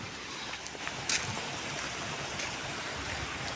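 Strong rushing water after a landslide, a steady broadband roar of fast flow close by, with a few brief splashes on top and no talking.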